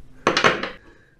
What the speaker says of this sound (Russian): Ставим чашку.